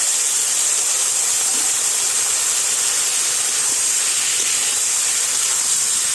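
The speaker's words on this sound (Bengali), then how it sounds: "এবার আমি শাক সিদ্ধটা দিয়ে দিচ্ছি" Boiled red amaranth greens go into a hot pan with oil and fried onion, garlic and chillies, letting out a loud, continuous steamy hiss with no pauses.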